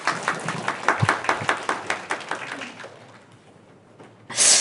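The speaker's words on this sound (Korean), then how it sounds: "박수로 맞아주시기 바랍니다" Audience applause at a disability integrated-care consortium seminar in Gyeonggi Province, a burst of steady clapping from a seated crowd that fades out over a few seconds before a brief louder noise at the end.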